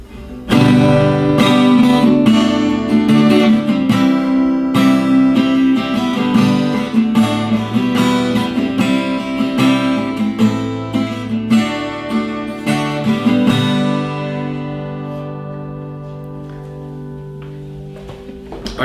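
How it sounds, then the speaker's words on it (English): A slightly out-of-tune 12-string guitar in D with a capo, strummed chords ringing with rich doubled harmonics, loud and close, then letting the last chord decay alone into near silence. "I love the sound of a 12 string, I really do."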